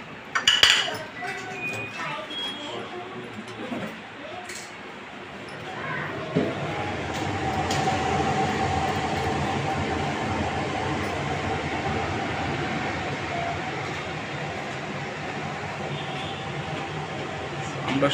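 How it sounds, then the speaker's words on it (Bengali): A kitchen hood fan runs freshly cleaned as a steady broadband whoosh, starting after a few clattering knocks and settling into a constant, fairly loud drone. "আমরা কিচেন হুডটা ছেড়ে আপনাদেরকে দেখাচ্ছি।"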